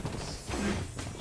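A weapon reload in the mobile shooter Blood Strike: a short run of mechanical ratcheting clicks and gear-like clatter, close and fairly quiet, lasting about a second with no talk.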